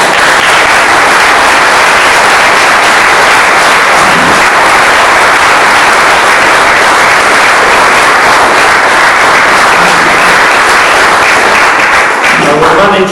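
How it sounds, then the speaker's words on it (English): A fans forum crowd at a football club meeting breaks into loud, sustained applause that fills the room for over twelve seconds, a brief voice surfacing near the end. "Firstly, I'd like you all to give them a round of applause."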